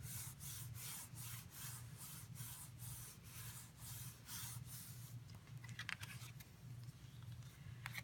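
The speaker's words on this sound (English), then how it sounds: "turn it over, and rub it good and hard" A paper card is rubbed down hard by hand, a quiet rhythmic series of dry rubbing strokes, close and faint, with no talk.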